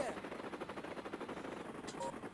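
Rapid, steady cannon fire from a helicopter gunship in the Amiga game Desert Strike: Return to the Gulf, a fast rattling burst of shots that continues for the full stretch with no talking.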